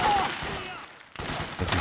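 Gunfire in the video game Metal Gear Solid 4, a dense burst of shots fading into a brief lull before firing resumes loudly, with a voice faintly mixed in.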